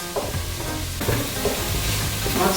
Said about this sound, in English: So the onion and the carrots are sauteing really.